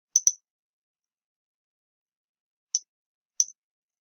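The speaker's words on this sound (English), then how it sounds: "now we're going to click the stop recording button" Four sharp mouse clicks on a stop recording button in Microsoft Teams, a quick double click followed by two single clicks spaced apart, crisp and close in otherwise total silence.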